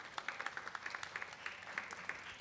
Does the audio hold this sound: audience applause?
yes